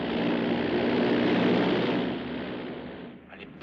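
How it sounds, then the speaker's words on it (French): Airplane about to land heard as a steady broadband propeller-engine drone, fairly loud and then slowly fading, with a sharp knock right at the end. "C'est l'avion que je pense"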